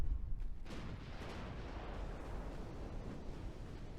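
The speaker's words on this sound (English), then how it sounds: "Ammo, detonation, fire." A deep, sustained rumbling roar from a warship's ammunition detonating in a naval battle game, a dense low-heavy blast that rolls on steadily with no clear break.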